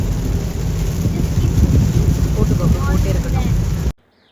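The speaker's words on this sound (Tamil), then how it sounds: "போகிற வழியிலே பார்த்தீங்கன்னா மழை வந்துடுச்சு" Heavy rain pours down during a drive, a loud dense wash of drumming drops close by, rumbling on until it cuts off abruptly near the end.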